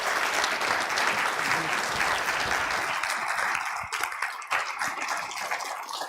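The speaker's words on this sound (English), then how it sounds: "Let's give one last round of applause to Fish Stark." An audience at a talk on humanism and the future of the AHA applauds: a steady, loud wash of clapping that thins and fades toward the end.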